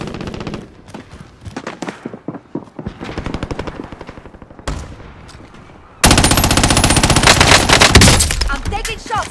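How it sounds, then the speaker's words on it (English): Gunfire crackles in a military shooter video game: rapid machine-gun bursts and shots in loud clusters, swelling into a dense, continuous roar of fire near the end. "I'm taking shots."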